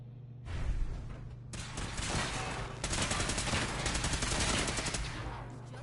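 Sustained automatic gunfire in the Fallout 4 video game, a loud fusillade of rapid overlapping shots that starts abruptly and continues in dense bursts with no talk.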